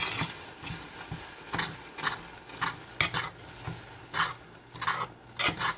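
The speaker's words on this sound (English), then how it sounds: "So I'm just going to keep stirring this, my friends, till all the lumps and bumps are mostly out." A spoon stirs melting margarine and brown sugar in a pan, giving repeated rhythmic scraping strokes about once a second over a soft sizzle, fairly quiet and close.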